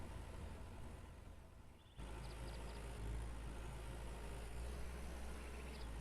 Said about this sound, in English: please tell me if the tractor is too loud